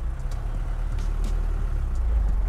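A Mercedes G-Wagon 240GD in two-wheel drive with its wheels spinning, a steady low diesel drone under faint intermittent hissing from churning tires, close and continuous.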